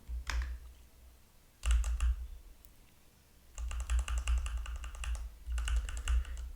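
Keys clack on a computer keyboard while commands are entered in the Neovim editor, in short bursts of typing separated by pauses and ending in a longer rapid run of close, crisp taps.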